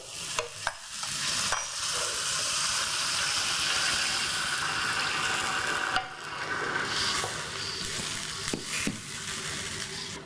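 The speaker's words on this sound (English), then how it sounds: "So now let's add the chicken stock." Chicken stock goes into a pot of sizzling Balinese spice paste with lemongrass and salam leaf for a tilapia fish stew, a loud splashing rush that turns the frying hiss into bubbling, with a few stirring knocks.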